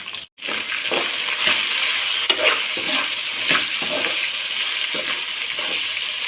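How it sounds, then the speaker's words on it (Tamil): Onions with a pinch of asafoetida stir-fried in a pan, a steady close sizzle broken by regular scraping stirs of a spatula throughout. "இது நல்லா வேகிற வரைக்கும் கலரி விடுவோம்"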